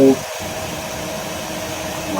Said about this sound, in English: we had a crazy, like a vacuum cleaner going on